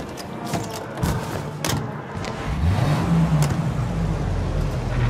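A car drives in Mafia Definitive Edition, with a few thumps and clicks up front, then the engine rises into a steady, close rumble that climbs in pitch as it accelerates.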